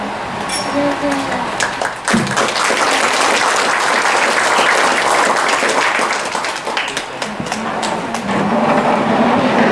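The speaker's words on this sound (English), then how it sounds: "I want to just applaud Dan and let him sing the anthem for us." A political rally crowd applauds steadily for nearly ten seconds, a dense, loud wash of clapping with voices mixed in beneath it.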